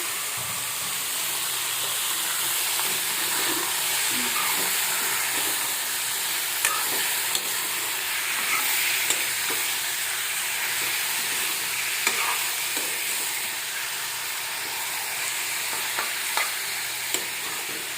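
Meat sizzles and spits steadily in a pan over a high flame, a dense, continuous frying crackle with scattered pops and no talking.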